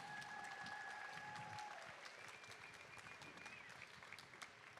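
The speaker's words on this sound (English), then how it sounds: "So can you give a huge round of applause to your sponsors" An audience at a district championship opening ceremony claps for team sponsors, a sustained wash of applause from a crowd with faint tonal hum in the background, fairly distant and even.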